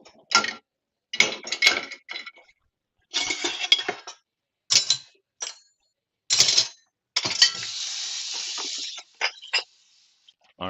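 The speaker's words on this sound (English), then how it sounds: "I'm gonna go quiet here while I go ahead and put some dishes in the dishwasher" Dishes being loaded into a dishwasher at home: a run of separate clinks and clatters of plates and cutlery, close and fairly loud, with short pauses and a longer rattling scrape near the end, no talking.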